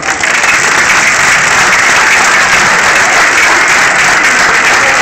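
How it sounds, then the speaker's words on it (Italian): Loud, dense applause fills a hall at a sports awards ceremony, a constant roar of many hands clapping close and unbroken throughout. "vorrei dedicassimo loro un caloroso applauso"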